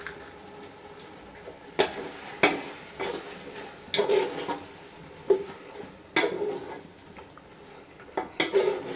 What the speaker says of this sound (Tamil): இதோட நம்ம தேவையான அளவுக்கு உப்பு சேர்த்து வதக்கிடலாம்.